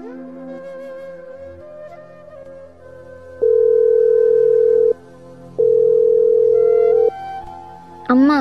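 An unanswered outgoing phone call. Two long, loud ringback tones sound in steady succession over quiet background music, followed by a brief electronic chirp at the end.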